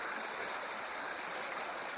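Small rapids on a woodland stream near Slaley and Healey Mill, shown on maps as waterfalls, make a steady broadband rush of water that holds level and close throughout without a break.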